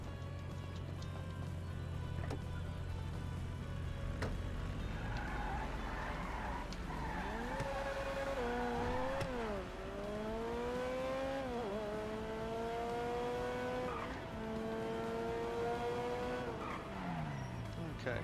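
A car drives in the Transport Tycoon video game, a steady engine drone that rises and falls in pitch as it accelerates and turns, with occasional tire squeal, continuous and fairly loud throughout.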